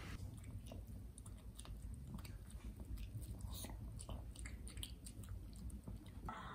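A dog eating its food, with a steady run of close, soft crunching and wet chewing bites, and faint voices now and then in the background.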